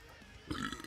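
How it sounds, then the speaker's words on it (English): A short, low burp, faint and close, lasting about half a second against a quiet background. "I burped."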